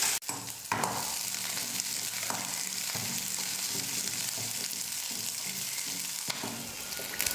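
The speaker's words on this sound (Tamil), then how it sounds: "வெங்காயம் சேர்த்து 1 நிமிஷம் நல்லா வதக்குனதுக்கப்புறமா" Small onions and garlic sauté in hot oil in a pan for an eggplant kuzhambu, giving a steady close sizzle broken by occasional spoon scrapes and clicks throughout.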